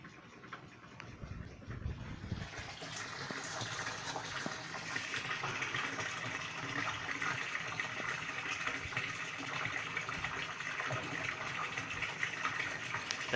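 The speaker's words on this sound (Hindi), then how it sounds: "बहुत अच्छे फ्लो के साथ यहाँ पर पानी हमारा जो है वो भर रहा है। मोटर सही तरीके से काम कर रही है।" Water from a solar DC pump, run from a battery, pours steadily into a tank with a continuous rushing, splashing flow that swells after a quieter start and holds at a constant level.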